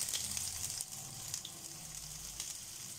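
Radhuni seeds and onion hitting hot oil for a tempering before masoor dal, giving a steady hissing sizzle with faint crackles, close and continuous, no voices over it.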